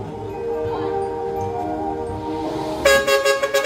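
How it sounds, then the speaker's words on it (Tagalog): Bus horn honking in a series of short loud blasts near the end, following a steady background hum with faint voices. "Pangbus ata yun ah. Sa busina."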